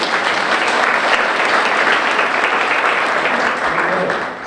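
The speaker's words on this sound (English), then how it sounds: "So a round of applause for everyone here." Sustained audience applause fills a civic State of the City address in Saratoga, a dense, steady wash of clapping from a large crowd that holds loud throughout before tapering slightly at the end.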